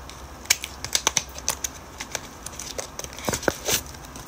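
Packaging for a black 5-in-1 SIM card adaptor being torn and handled, a close series of sharp crinkly clicks and snaps arriving in irregular bursts for a few seconds.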